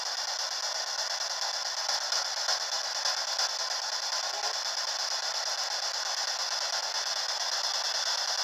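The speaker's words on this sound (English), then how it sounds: "can you please shout into the spirit box?" Sustained broadband radio static from a P-SB7 spirit box sweeping through stations in a house, a steady hiss with faint flickers of fragmentary sound and no clear voices.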